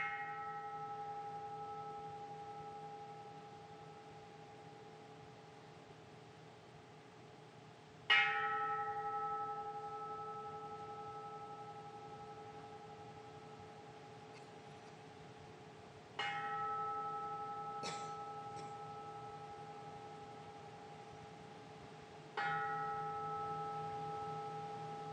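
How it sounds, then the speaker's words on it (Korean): A temple bell at a Buddhist memorial rite for the monk Manhae marks the start of silent meditation. Several clear strikes each ring out with a long, sustained metallic tone that slowly fades in a quiet hall. "종소리에 맞춰서"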